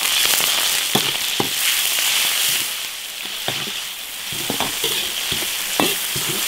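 Spicy chili sauce with scallion, ginger and garlic sprouts stir-fried in an iron wok, a loud continuous sizzle broken by sharp scraping clacks of the spatula at an uneven rhythm, close up and without talk.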